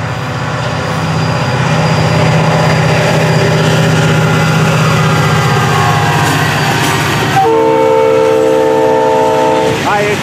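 FEC 920 freight locomotive hauling a train of sand and stone aggregate cars rolls steadily past at close range, with a loud continuous rumble and clatter, then sounds a sustained multi-tone horn near the end.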